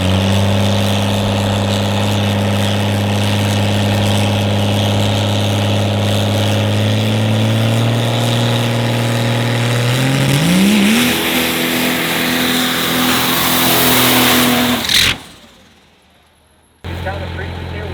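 Diesel pro-mod drag truck engine rumbling loud and close at a steady idle, then rising in a rev before cutting off abruptly, followed by a short silence and the engine noise returning.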